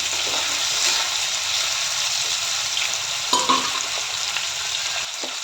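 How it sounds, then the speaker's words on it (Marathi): Potato slices frying in hot oil in a home kitchen, producing a steady, loud sizzle throughout with a few brief clinks and stirring sounds. "बटाट्याचे काप तेलामध्ये चांगल्या प्रकारे होऊ द्यायचे"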